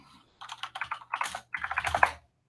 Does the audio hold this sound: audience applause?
no